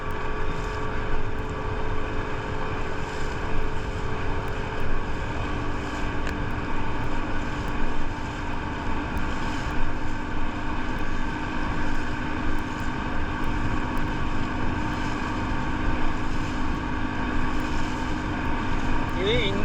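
Off Musandam, Oman, a motorboat pulls a banana boat over the Indian Ocean, its engine roaring in a continuous close drone mixed with wind noise and rushing water, with faint voices underneath.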